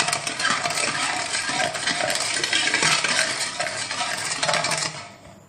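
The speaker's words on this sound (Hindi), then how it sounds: "अब मैं इसमें डालूंगी चीनी, 5 टेबलस्पून के बराबर चीनी और अच्छे से इसको हम डिसॉल्व करेंगे लेमन के रस के साथ" A spoon stirs sugar into lemon juice in a glass, making continuous rapid clinking and scraping with a grainy rustle before it stops abruptly.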